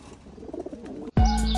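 Soft, low cooing of racing pigeons in a loft murmurs for about a second before a louder, steady tone abruptly cuts in.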